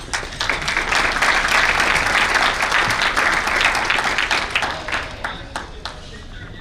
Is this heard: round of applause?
yes